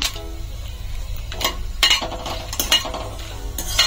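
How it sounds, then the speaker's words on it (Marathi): Bedgi chillies and dried cardamom frying in a pan for a Malvani mori (shark) fish masala, with a steady sizzle and several sharp clinks of a spoon stirring against the metal. "याला आपण छान फ्राय करून घेऊया।"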